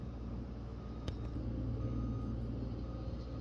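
An electrically driven gravel smoother works loose gravel on a small home's driveway, giving a steady low mechanical rumble and drone with a brief sharp tick near the start, heard without voices.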